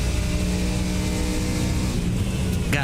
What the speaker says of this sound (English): I gotta love the engine notes in some of these race cars.